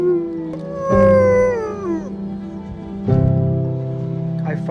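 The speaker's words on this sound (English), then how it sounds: "he stopped and lay down in the street and just howled" A Great Pyrenees dog lying in the street lets out long, loud wavering howls, each rising and then sliding down in pitch, with a second howl starting after a short pause.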